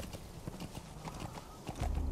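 Horse hooves clip-clopping in the Metal Gear Solid V video game, a quick steady rhythm of hoof strikes that ends in a heavier low rumble, close and clear with no talking.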